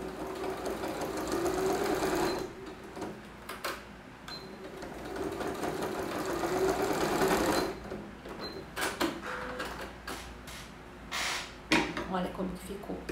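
A sewing machine stitches the lining of a child's zippered pouch in bursts of fast mechanical whirring, pausing and restarting several times with short clicks between runs, close and moderately loud.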